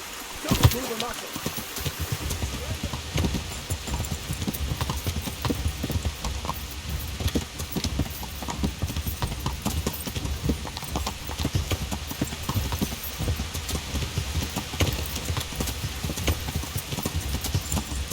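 Horse hooves clip-clop steadily and close throughout in Kingdom Come: Deliverance, a continuous trotting rhythm over a busy game ambience with occasional speech mixed in.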